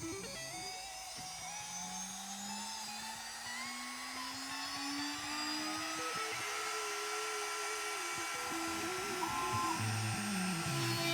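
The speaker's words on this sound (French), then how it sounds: "Pour faire la cavité centrale, qui doit être arrondie au fond, on va utiliser une fraise demi-ronde." A cheap Chinese rotary tool fitted with a half-round bit routes a round-bottomed central cavity into an electric guitar's bird's-beak neck, a steady high whine that slowly rises in pitch as it cuts, close and continuous throughout.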